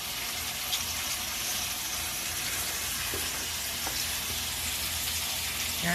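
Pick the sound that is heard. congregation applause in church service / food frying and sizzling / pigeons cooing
food frying and sizzling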